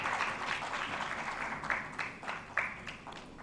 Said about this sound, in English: Can I please have a huge round of applause once again?